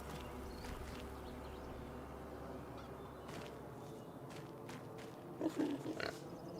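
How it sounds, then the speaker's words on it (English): Pigs in the farming video game Farming Simulator 25 grunt in a pen, a few short, low grunts rising near the end over a steady, quiet background hum of ambient farm noise. "The adult pigs doing adult pig things."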